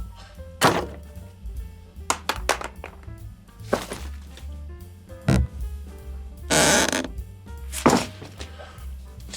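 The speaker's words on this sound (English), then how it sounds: "Just a random assortment of creaks, clatters, and thuds." A random assortment of creepy sound effects, with irregular creaks, clatters and hollow thuds popping up one after another, some sharp and knocking, others longer scraping bursts.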